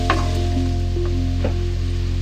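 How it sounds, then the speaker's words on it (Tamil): Onions frying toward golden brown for chana masala, a close sizzle with a few stirring scrapes over a constant low hum. "வெங்காயத்தை சேர்த்திட்டு வெங்காயம் நல்லா கோல்டன் ப்ரௌனாக ஃப்ரை ஆகிற அளவுக்கு நல்லா வதக்கி விடுங்க"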